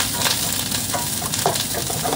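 Vegetables for chicken tinola sauté in a pan with a steady, close sizzle and faint stirring scrapes throughout, no voices.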